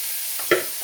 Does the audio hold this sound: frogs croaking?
no